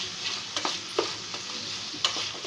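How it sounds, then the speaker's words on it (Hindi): Potatoes with a pinch of turmeric frying and being stirred in a pan for methi sabzi: a steady soft sizzle with a few sharper scraping clicks of the spoon, close and alone. "इसे भी 2 सेकेंड्स के लिए ऐसे इसमें भून लेना है।"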